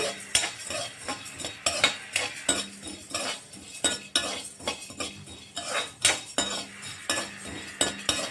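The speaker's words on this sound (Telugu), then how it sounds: "ఒక 5 minutes ఫ్రై చేసుకుందాము" Black peppercorns dry-fried in a pan for rasam powder, stirred with a utensil that gives repeated sharp metallic clinks and scrapes against the pan in an uneven rhythm, close and fairly quiet, with no talking.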